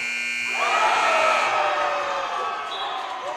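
A loud electronic game buzzer blares for a couple of seconds over a cheering gym crowd at a high school boys' basketball game.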